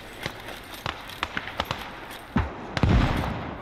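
Frag grenade bursting at a building window in the WWII Eastern Front game Gates of Hell: a few sharp clicks and small shots, then a heavy, low, rumbling blast that rolls on to the end.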